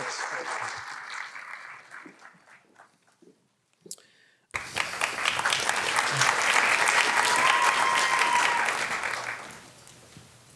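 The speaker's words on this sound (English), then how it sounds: "let's give one more round of applause, please" A brief patter of claps and a voice give way to a sudden burst of sustained audience applause at a three-minute thesis finals event, loud and full for several seconds before tapering off.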